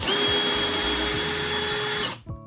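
A cordless drill with a hex key bit, set to low torque, whirs steadily while backing screws out of furniture, loud and close, then winds down and stops.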